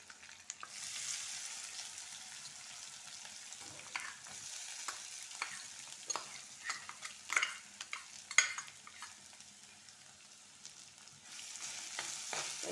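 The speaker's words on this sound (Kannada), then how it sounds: "ಒಗ್ಗರಣೆ ರೆಡಿಯಾಗಿದೆ. ಈಗ ಈ ಮಾಡಿ ಇಟ್ಕೊಂಡಂಥ ಮಸಾಲ ಹಾಕ್ಕೊಳ್ತೇನೆ." Ground masala hits a hot tempering of oil for a chickpea usli, sizzling softly while a spoon scrapes and stirs in irregular clinks and scuffs, with a brief louder clatter midway.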